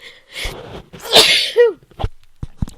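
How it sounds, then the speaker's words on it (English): A single loud sneeze close up, with a breathy wind-up inhale before the burst, followed by a couple of quiet clicks. "I'm going to sneeze."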